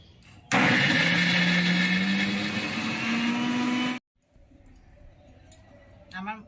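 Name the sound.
mixer grinder grinding green peas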